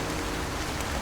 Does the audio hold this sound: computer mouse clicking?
no